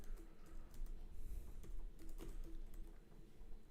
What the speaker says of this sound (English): I'm typing it in right here.